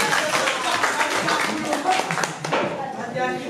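Classroom applause as a group of students claps together, a thick and fairly loud crackle of hands that runs steadily throughout, mixed with overlapping voices.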